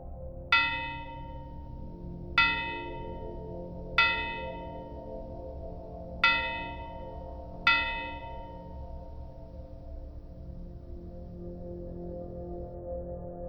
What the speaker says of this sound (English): Suddenly, I hear the grave bell again.